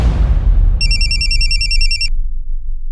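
A telephone rings with a loud electronic trilling bell for just over a second, heard over a dense low rumble of background noise before cutting off abruptly.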